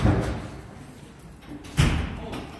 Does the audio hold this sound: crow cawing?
no